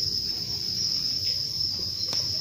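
Crickets kept in a breeding box trill in a steady, unbroken high drone, close and fairly loud, with soft handling noises beneath.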